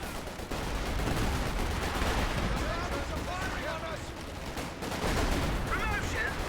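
Sustained battle gunfire in Company of Heroes 2, dense rattling shots and distant booms forming a continuous loud wash, with a voice talking over it.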